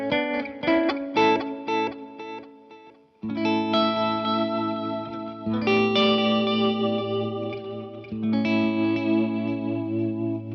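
An electric guitar plays through a Line 6 DL4 delay pedal in loop mode, with plucked notes and chords in phrases that bloom into repeating, chorus-tinged echoes and a lingering wash, loud and close with no talking.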